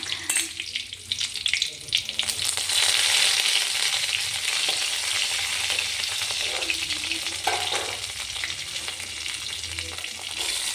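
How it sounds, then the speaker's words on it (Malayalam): Onions sautéing in oil with mustard seeds, dried red chillies and curry leaves make a steady, loud sizzle and hiss close by. A few stirring scrapes cut in, and no one talks. "വഴറ്റിയതിന് ശേഷം അതിലേക്ക് നമുക്ക് സവാള ഇട്ട് കൊടുക്കാം"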